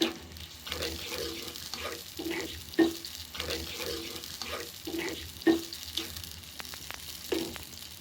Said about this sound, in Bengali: এই তেলটা দিয়ে আমি মাংসটা কষাবো